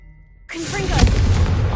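Confringo fire-blast spell in the Hogwarts Legacy video game: silence broken by a sudden loud burst that swells into a roaring, crackling blast lasting over a second.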